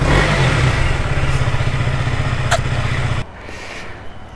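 A motorcycle engine rumbles loudly and close as a Sunday ride gets under way, a steady throbbing drone that drops off sharply near the end to a quieter background.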